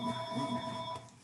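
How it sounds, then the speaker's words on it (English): A telephone rings in a home kitchen, a single short electronic ring with steady sustained tones that cut off after about a second, heard faintly and alone. "obviously you heard the phone ringing"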